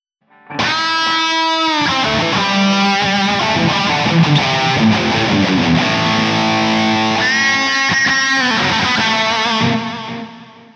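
An electric guitar runs through the THU Overloud amp sim on its Soloist preset, giving loud distorted sustained notes with bends and squealing harmonics that ring out and fade at the end.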